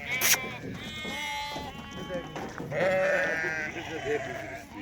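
Sheep and lambs bleat repeatedly, several wavering calls overlapping, with a person talking nearby.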